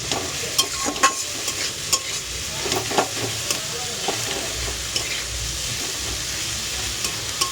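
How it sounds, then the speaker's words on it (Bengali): Fenugreek greens fry in a pan with a loud, continuous sizzle, while a spatula stirs them and taps the pan in irregular, close-up clicks throughout. "শাক ভাজাটা বসিয়ে দিয়েছি"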